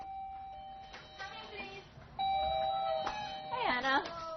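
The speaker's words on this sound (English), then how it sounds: "But nowadays, they have doorbells." A doorbell rings at a hostel in Beijing, its clear tones sounding twice over a few seconds, with people talking and moving about nearby.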